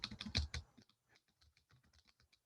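Computer keyboard typing at close range, a quick loud burst of keystrokes followed by a lighter, irregular run of softer taps.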